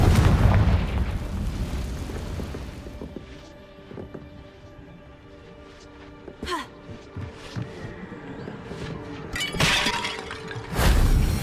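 A Confringo blasting spell from the Hogwarts Legacy video game bursts loudly, then tails into crackling debris and rumble, with further sharp blasts near the end.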